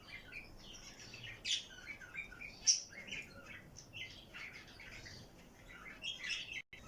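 Small birds chirp and tweet around a nest among plants on a Ramadan morning, with scattered faint calls and a few sharper, louder chirps over a soft, steady background.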